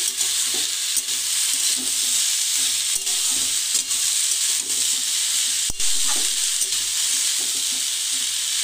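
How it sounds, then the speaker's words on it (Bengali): Cauliflower stalks stirred in a hot pan, a steady close sizzle with repeated scraping strokes of a spatula at a loose, uneven rhythm, continuing without talk. "এটাকে এর সাথে ভালো করে মিশিয়ে 2 মিনিট নেড়ে নিয়ে"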